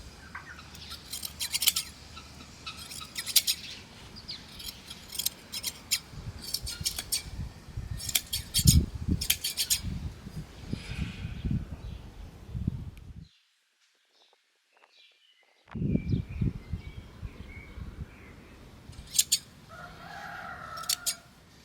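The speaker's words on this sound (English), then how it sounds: "I use some special scissors to cut the wool" Special scissors shear wool from a sheep outdoors in a village, a series of crisp close snipping bursts in quick clusters, broken by a short silence, while chickens cluck and a rooster crows in the background.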